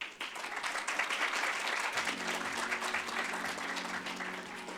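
An audience at a panel event on protected areas applauding as the moderator is welcomed to the stage, a dense sustained round of clapping throughout with a low hum underneath.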